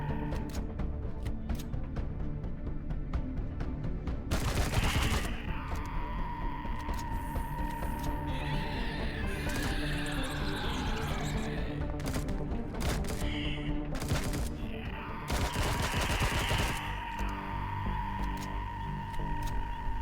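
Gunfire in the sci-fi survival game Empyrion, Reforged Edition: two short, loud bursts some ten seconds apart over a steady humming, droning game soundscape.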